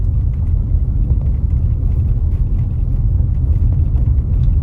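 Steady low road rumble of a car driving along the partly unpaved Montego Bay bypass road in Jamaica after Hurricane Melissa, a constant loud interior drone with no talk.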